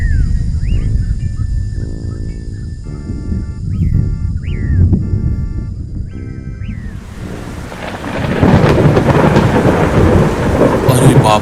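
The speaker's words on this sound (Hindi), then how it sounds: "अरे बाप रे, लगता है बहुत तेज बारिश होने वाली है।" Birds chirp over a low bed of sound at first, then a loud thunderclap breaks in and a heavy, roaring rain takes over for the rest of the scene in an animated Hindi story.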